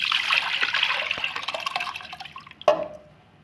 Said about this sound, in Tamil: இப்போ ஊற வச்ச அரிசி பருப்பை ஊற்றிக்கோங்க